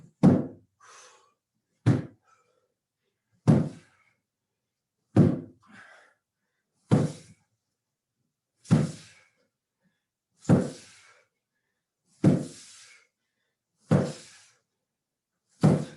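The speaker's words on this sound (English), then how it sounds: "Give me as many slams as you can." Slam balls thrown hard to the floor during a bootcamp workout, ten heavy thuds spaced about every one and a half to two seconds, each sharp and loud with a short decay, no talking.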